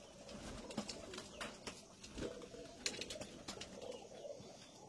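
Pigeons coo repeatedly at a pigeon farm, soft low calls layered in a busy, continuous murmur with a few brief wing flaps.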